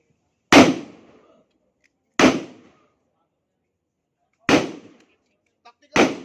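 Four sharp pistol shots fired during firearms training ring out alone, spaced irregularly over several seconds, each a loud crack with a short decaying tail and silence between.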